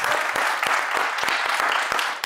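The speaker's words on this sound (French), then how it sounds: "Est-ce qu'on peut applaudir Thibaut?" A French conference audience applauds a presenter, a short burst of dense clapping with a few sharper individual claps standing out.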